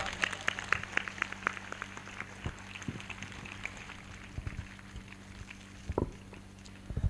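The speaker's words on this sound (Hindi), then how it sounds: "ताली बजाकर धन्यवाद करें।" A church congregation at a Christian ministry service claps in thanks, scattered, uneven hand claps of varying strength over a low background hum, fairly faint and loosest in the middle.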